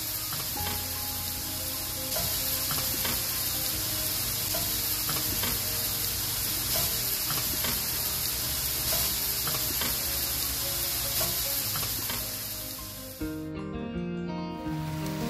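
Wild mushrooms foraged in northern Wisconsin sizzle and fry steadily in a hot pan, a dense, loud, continuous hiss with occasional scrapes and clicks of stirring, which suddenly drops away near the end.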